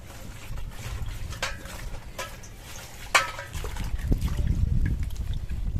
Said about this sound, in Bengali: পরিষ্কার জল দিয়ে 2-3 বার করে ধুয়ে নেব।